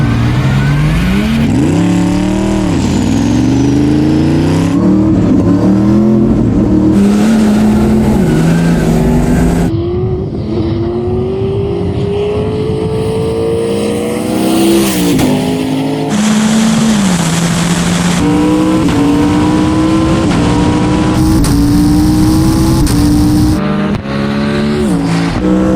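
A 1,200hp compound turbo diesel Ford F100 and Ken Block's 1,400hp AWD Ford Mustang race, with loud sustained engine roar rising and falling through repeated gear shifts, plus brief tire squeal, close and continuous.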